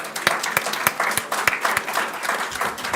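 An event audience gives the speakers a round of applause, a steady patter of many hands with a few sharper, closer claps punctuating the crowd throughout.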